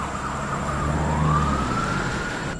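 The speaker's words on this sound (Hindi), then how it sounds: "तब जाकर एम्बुलेंस आई" Ambulance siren sounding on a rainy road as it arrives, a steady wailing tone that slowly rises in pitch, held continuously under background rain and traffic noise, with no talk.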